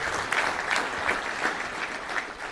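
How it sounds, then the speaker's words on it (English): A room of audience members at a touchdown club luncheon applauds parents and coaches, a full, even wash of clapping with small swells, no talking over it. "let's give another round of applause to our parents and coaches"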